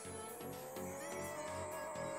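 A Nissan Skyline R34 GTR Veilside in the Pixel Car Racer video game accelerates with a synthetic engine tone that climbs steadily in pitch, with short shift-like breaks, quiet and without talk.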